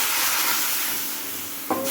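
Loud, steady sizzling hiss as hot water hits roasted amaranth flour in a hot pan for rajgira shiro, with a short clunk near the end.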